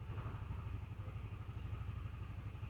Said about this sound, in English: now the engine is running.